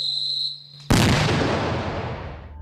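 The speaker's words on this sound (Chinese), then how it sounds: "在炸药爆炸的瞬间，巨大的冲击力把表层的玻璃震碎" An explosive charge detonates against laminated glass, shattering its surface layer: a single sudden, loud blast that cuts through a steady hum, then a broad crashing rumble that slowly decays.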